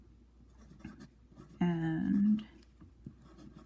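A hard, smooth vintage lever-filler fountain pen nib scratches across paper in a short, close stroke, with a soft voice murmuring briefly nearby.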